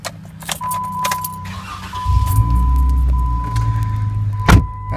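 A 2013 Jeep Wrangler Unlimited Rubicon camper starts up: keys jingle and a steady chime sounds, then the engine catches with a rising rumble and settles into a loud, even idle close by.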